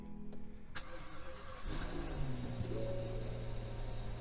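A salvage-auction Rolls-Royce cranks with a whirring starter, catches and settles into a steady, smooth idle, close and moderately loud with no talk over it.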